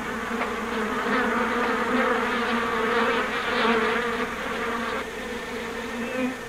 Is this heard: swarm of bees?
yes